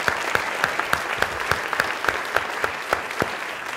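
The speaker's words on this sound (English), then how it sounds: "Big round of applause for all the presentations" An audience gives a round of applause after business pitch presentations for Dunkin' Turbo Shot, a steady continuous clapping with individual sharp claps standing out, fairly close and with no talk.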